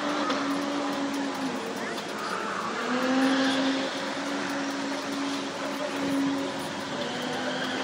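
A turbocharged car driving past at Raleigh Park, a sustained engine drone rising and falling with tire noise, with people talking nearby.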